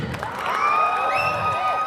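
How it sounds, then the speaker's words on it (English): Children cheer, whoop and shout in a lively crowd burst with some clapping mixed in, loud and close in a hall at a school farewell event. "Come on, everybody clap."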